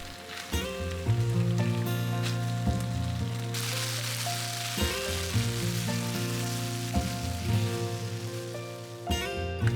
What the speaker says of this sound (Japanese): キャベツがしんなりして鮭に火が通ったら、味噌、酒各大さじ1と1/2、マヨネーズ大さじ2を加えて炒め合わせたら完成です。